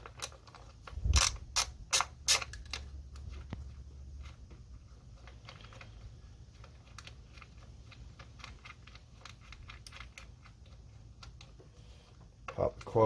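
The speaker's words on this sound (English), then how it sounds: "take a 10 millimeter, loosen up the bolt" A ratchet with a 10 mm socket loosens a bolt on a Jeep Cherokee KL 3.2L engine, giving a few quick clicking bursts near the start and a softer click at the end, close and fairly quiet over low background hum.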